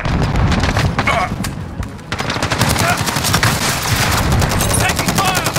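Rapid automatic gunfire in a Call of Duty Modern Warfare multiplayer Kill Confirmed match on the Piccadilly map, loud sustained bursts of shots cracking almost nonstop, with a brief lull before the firing resumes, game voices mixed in.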